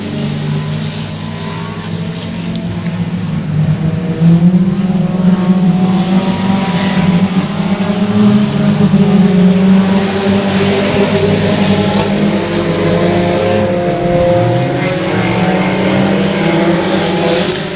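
Race cars racing at Boyd Raceway, a sustained loud roar of engines with rising and falling revs as the pack circles, continuous and fairly close.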